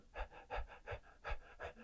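A voice imitates short, shallow panting breaths, about six quick rhythmic puffs in a steady run, close and fairly quiet with no other sound.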